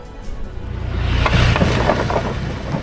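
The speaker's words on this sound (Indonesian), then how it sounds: "Jadi, kalau misalkan kita melintas, itu bunyi suara gemeretak atau geludakan." A train or vehicle crosses an old wooden-plank railway bridge from the Dutch colonial era in Tuban, and the planks give a steady low rumble with clattering knocks that builds and stays loud throughout.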